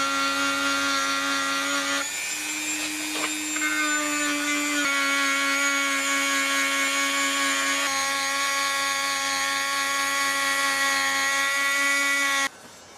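A rotary tool fitted with a rubber abrasive tip grinds down high spots on a metal lapping bar, a loud continuous high-pitched whine that shifts pitch slightly as the load changes, cutting off near the end.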